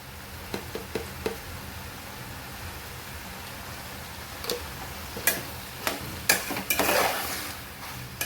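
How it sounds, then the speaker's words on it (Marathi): Rice and vegetables being stirred and sautéed in a pan, with soft scraping and clinking of a spoon against the pan over a faint sizzle, growing busier and louder toward the end, no talking. "छान मिक्स करून घेऊ तर तांदूळ चांगला परतून घ्यायचा"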